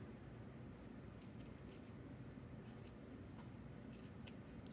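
Scissors snip through a bead garland craft piece at close range, giving a run of short, crisp cuts spread over several seconds against a steady low background hum.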